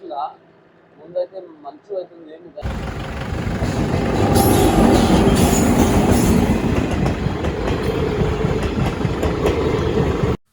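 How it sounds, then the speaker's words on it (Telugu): A train passes close and loud, a heavy rumbling roar with rhythmic clatter that starts abruptly after a few quiet seconds of faint voices. "ఇక్కడ మీరు చూస్తున్నారు కదా ట్రైన్ వచ్చింది"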